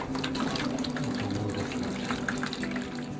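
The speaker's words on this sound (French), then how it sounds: "Un rinçage finalise la décoloration." Steady running water rinses bleached vulture feathers for several seconds, a close continuous splashing flow like a tap filling a sink, with no voices.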